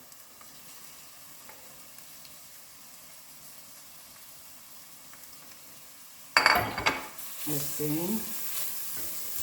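Onion softening in a pan gives a faint, low hiss for several seconds, then carrot goes in with a sudden loud sizzle, followed by stirring and scraping as the frying settles, with a brief spoken word.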